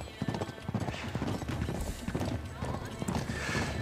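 Horses galloping in the video game Uncharted 3, rapid clip-clop hoofbeats pounding in a steady rhythm close by, with a whinny and a voice speaking over the action.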